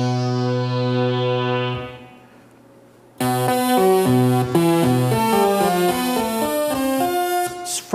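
A Sequential Circuits Prophet 10 synthesizer first sustains a held tone that fades, then plays sequence 14 as a bright, rapid stepping pattern of notes, loud and close.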